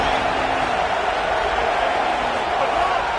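A stadium crowd roars steadily in an American football video game set at a Michigan game, a dense, loud wash of cheering that holds without a break, with commentary talk beneath it.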